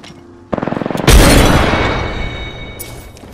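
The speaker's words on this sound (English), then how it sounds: "Grenade out." A rapid run of gunfire in Apex Legends gives way to a loud, deep boom of a grenade explosion that rumbles and fades slowly over a couple of seconds.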